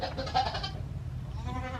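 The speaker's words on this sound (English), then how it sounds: "Goats" A goat gives a faint, short bleat in the first half second, then a low, steady background continues without further calls.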